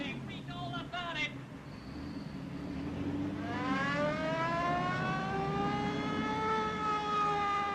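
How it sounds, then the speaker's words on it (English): A movie-era police car siren wails loudly, rising and falling in long sweeps, joined by a rumbling engine and earlier shouting voices. "Get your foot off that siren."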